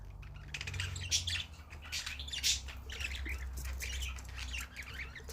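Pet budgerigars squawking and chirping indoors in a rapid, busy chatter of sharp calls, fairly close and continuous over a low rumbling background.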